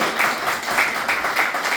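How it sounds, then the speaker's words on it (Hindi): An audience claps together in a room, a dense, steady burst of applause with rhythmic swells that carries through the whole moment, loud and close, with no speech over it. "ताली बजना चाहिए इस बार"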